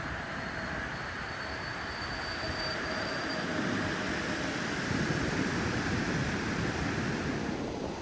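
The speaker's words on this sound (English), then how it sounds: "We're starting here with a southbound coaster commuter train." A southbound Coaster commuter train passes along the Surfline on bluffs above the beach at Del Mar, a loud continuous rumble and rattle of wheels on rail that builds slightly, with faint squeal overtones and no talking.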